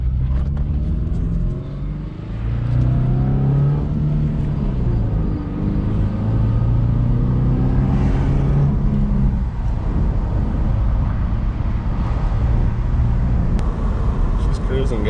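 Low rumbling engine and road noise from inside a moving Subaru base model 2.5i, with gear changes shifting the engine tone; a person talks over it.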